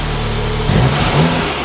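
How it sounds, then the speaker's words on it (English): A new Audi S3 four-cylinder engine with stock exhaust idles with a steady hum, then gives two short revs in quick succession, loud and close. "The exhaust system stock is decent for a little 4-cylinder."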